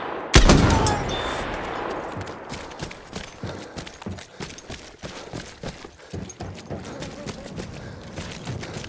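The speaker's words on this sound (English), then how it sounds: "Enemy machine gun sighted!" Machine gun fire in Battlefield 1, an opening loud blast followed by rapid, steady bursts of automatic gunfire running continuously at moderate distance.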